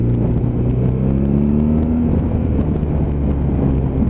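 A BMW R1200GS motorcycle pulls hard on a test ride, its engine a loud, continuous low drone that climbs steadily in pitch as it accelerates, mixed with steady wind rush.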